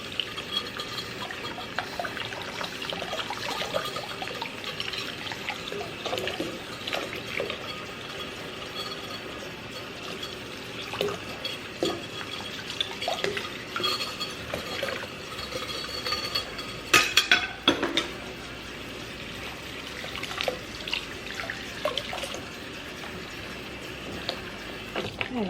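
A borrowed food dish is washed by hand under running tap water, with steady splashing and flow, scattered clinks of dish and cutlery, and scrubbing noises close by, no clear talk.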